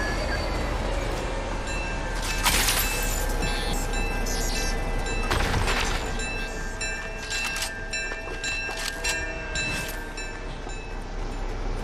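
Inside the Fortnite video game, a moving train produces a loud, continuous rumble and rattle of wagons, with metallic squeals and clanks surging at intervals and a steady tonal whine throughout.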